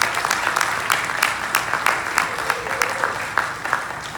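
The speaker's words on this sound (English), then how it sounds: "So give yourselves a round of applause for that." A convention audience at a closing ceremony applauds steadily throughout, dense clapping from a large crowd at an even level with a few sharper claps standing out.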